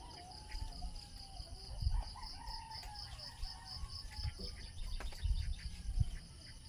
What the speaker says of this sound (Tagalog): Pakain muna ako ng aking alagang mga manok guys